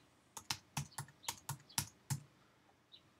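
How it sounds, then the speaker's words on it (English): Eight crisp keystrokes on a computer keyboard as a new password is typed, spaced unevenly over about two seconds, close and clear in a quiet room, followed by a faint final tap. "I just type in my new password that I want"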